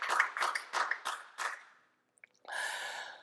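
A church congregation at a Korean worship service claps: five separate sharp claps in a loose rhythm, a short pause, then a sustained burst of applause from many hands.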